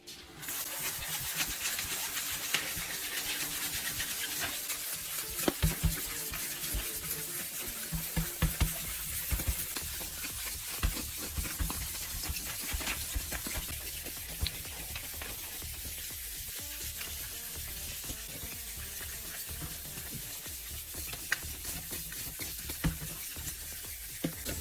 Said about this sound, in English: You wet it and sand the lens again, but this time with lighter pressure.